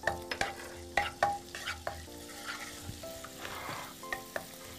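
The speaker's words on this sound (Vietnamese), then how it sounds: "bây giờ trước hết mình sẽ xào ba rô cho thơm" Leeks stir-fried in a pan as the first step of a vegetarian taro and tofu soup: steady sizzling under repeated sharp scrapes and clacks of a utensil against the pan, close and fairly quiet, with no talking.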